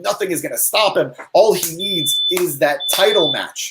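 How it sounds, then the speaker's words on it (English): A smoke alarm chirps inside a wrestling venue after a fiery promo, two steady high-pitched beeps sounding behind an announcer who keeps talking over them. "what you're hearing is the fire alarm from the heat that came from that promo"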